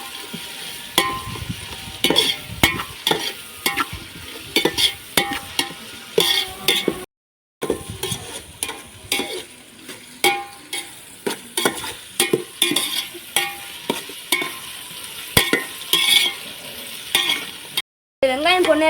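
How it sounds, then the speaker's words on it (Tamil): Onions frying in a pan and being stirred repeatedly: a low sizzle beneath frequent sharp scrapes and taps of the spoon against the pan, close and clear, with two brief dropouts and no speech. "வெங்காயம் வதங்கும் வரை நல்லா வதக்கவும்."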